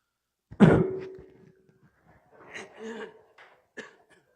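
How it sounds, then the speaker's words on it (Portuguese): A single sharp throat clearing, close and fairly loud, followed by a few quiet murmured sounds. "estou com um pigarro aqui"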